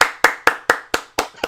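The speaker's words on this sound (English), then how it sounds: "Let's all give him a round of applause." Rhythmic clapping on a sports talk show: seven evenly spaced, sharp, close claps like one person or a small group applauding in time, with no talk over them.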